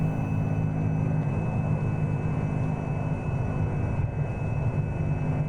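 Light aircraft rolling across a runway in X-Plane 11, a steady engine drone and hum at an even level, close and unbroken for several seconds with no talk.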